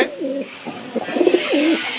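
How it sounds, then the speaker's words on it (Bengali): Large Peshawari pigeons coo close by in soft, rolling, repeated calls, with a faint background hiss and no voices. "এই যে দেখেন পেশোয়ারি কবুতর কত বড়"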